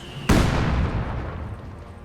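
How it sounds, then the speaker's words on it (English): A mortar shell explodes in the Company of Heroes 2 battlefield, one sudden loud boom that decays into a long rumbling tail over about two seconds. "So it looks like that some of the Soviet mortars might hit their own. Devastating blast right there."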